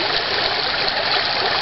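A river flows steadily in the evening, with a loud, continuous rushing, bubbling wash close by and no breaks.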